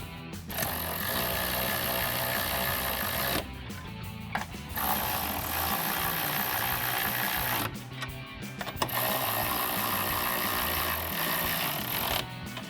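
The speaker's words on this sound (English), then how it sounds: "I'm going to take a 13 millimeter socket and tighten down all my nuts" A power tool with a 13 mm socket runs tightening nuts on running board brackets for a 2019-2026 RAM 1500, giving loud, close, sustained buzzing bursts separated by brief pauses.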